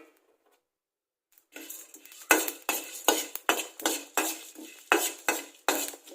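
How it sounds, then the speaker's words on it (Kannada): Cloves and cardamom dry-roasting in a pan on low flame, a close run of sharp rhythmic scrapes and clinks from a spoon stirring the whole spices after a brief silence, no voices. "ಲವಂಗ ಏಲಕ್ಕಿನ ನಾನು ಇವಾಗ ಇದಿಷ್ಟನ್ನು ಹುರಿಯೋದಕ್ಕೆ ಹಾಕ್ತೀನಿ"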